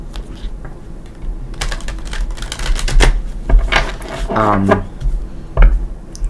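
Quick papery riffling and soft card slaps as a deck of tarot cards is shuffled in short bursts, close by, with a voice talking over parts of it.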